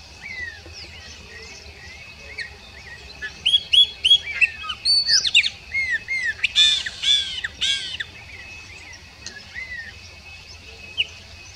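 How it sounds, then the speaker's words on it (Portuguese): Repeated bright chirping calls from a large elaenia, loud bursts clustered in the middle, over faint low background hum. "Guaracava grande. Cantando muito."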